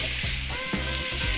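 General Tso's chicken stir fry sizzles steadily in a hot pan, a loud continuous frying hiss with a few soft stirring scrapes and no talking.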